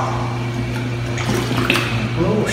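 Water runs steadily at a condominium hot tub, a loud, continuous close rush and splash with no pauses and no voices.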